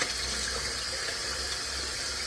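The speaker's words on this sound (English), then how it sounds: "I put it under the water to get it all nice and soapy" Very hot tap water runs steadily over a kitchen sponge at a sink, a continuous close, full splashing rush with no pauses.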